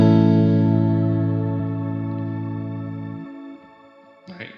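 An electric guitar chord rings out through a shimmer reverb effect, a sustained tone with a high, airy ambient wash that slowly decays, then a brief scrape at the end.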